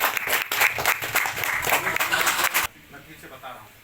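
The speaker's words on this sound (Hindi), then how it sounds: "हमारे एमडी सिराज के लिए ताली बजाइए।" An audience at a business seminar claps together in a dense burst, mixed with some talk, and the applause cuts off sharply partway through, leaving quieter room noise.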